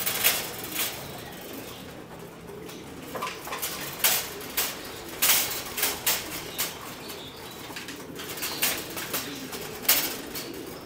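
Pigeons feeding on breeder mix in a loft make repeated pecking taps and sudden wing flaps, loud bursts scattered irregularly over a soft background, with no voices.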